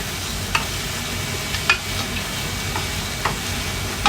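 Onion and garlic sautéing in a pan for kare kare, a continuous loud sizzle with a few sharp scraping stirs of a utensil against the pan.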